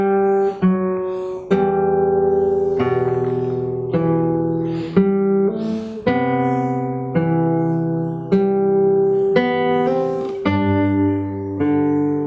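A solo acoustic guitar picked fingerstyle carries the next phrase, regular plucked notes and bass tones sustaining into one another, close and even in volume, no voices.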